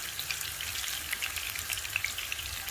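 Garlic and onion sizzle steadily in hot oil, a dense crackling hiss with scattered sharper pops, close and continuous with no voices.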